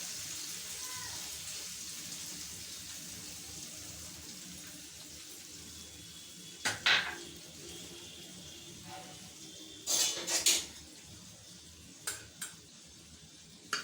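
Tamarind juice and salt go into a pot of South Indian vathal kuzhambu, a soft pouring hiss followed by a few quiet clinks of a spoon against the vessel.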